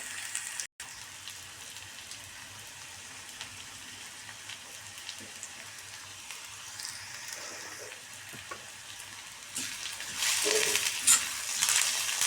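Onions and curry leaves fry in a pan, giving a soft, steady sizzle with faint scraping as they are stirred, swelling a little louder near the end; no voices.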